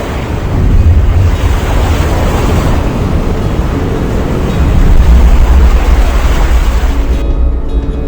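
Ocean waves break behind a windsurfer as a loud, continuous roar of surf mixed with wind buffeting the microphone, swelling slightly midway.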